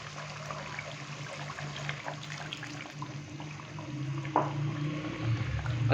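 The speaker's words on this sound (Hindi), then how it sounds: "इस टाइम पे आके मैं इसके अंदर डालूंगा हाफ कप के करीब पानी" About half a cup of water pours into a simmering Madras chicken curry, a steady wet trickle and splash over a constant background hum, swelling slightly louder toward the end.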